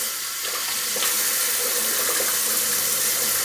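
Cold water runs from a tap in a loud, steady gush that swells slightly after the first second and holds constant, close and alone.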